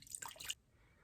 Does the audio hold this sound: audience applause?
no